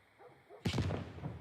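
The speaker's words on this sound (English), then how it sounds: "And now you can see the explosion in the back" A sudden loud explosion from the television in The Last of Us Part 1 video game, a single booming blast that stays rumbling and crackling for about a second after the hit, following a quiet stretch with faint background sound.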